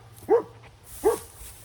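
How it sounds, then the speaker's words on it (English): A dog barks twice, about a second apart, from a short distance in an otherwise quiet space. "what are you barking for?"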